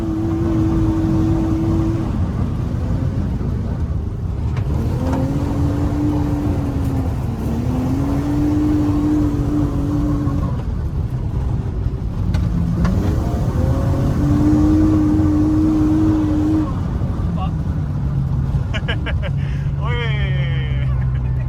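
A BMW E36 drifting on ice revs hard and continuously, the engine note rising and falling through sustained pulls as heard from inside the car, with a passenger talking over it.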